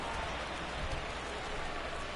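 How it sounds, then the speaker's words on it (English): Steady rain hissing down over an open baseball stadium during an October game, a broad continuous wash of noise with no distinct drops, no voices over it. "Look how much it's Infield in raining."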